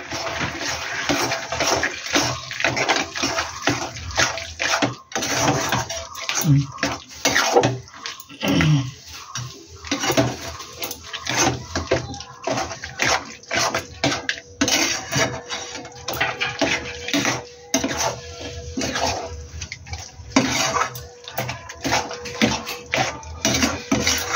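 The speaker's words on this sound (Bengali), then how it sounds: "এবার আমি এটাকে নাড়ছি" Sour plum pickle being stirred with rasgulla syrup, giving continuous wet scraping and sloshing with a few clinks of utensil against the pot, steady and close for the whole stretch with no talk.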